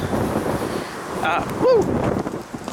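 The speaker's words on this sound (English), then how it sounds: "it's windy as heck right now" Gusty wind buffets the microphone with a steady low roar, broken by a brief high-pitched whine, with faint voices in the background.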